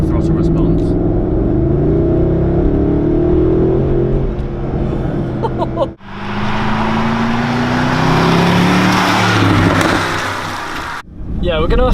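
A Mercedes SLS AMG drives and accelerates, its engine note rising in loud sweeps heard from inside the car, with a sudden surge partway through and people talking over the drone.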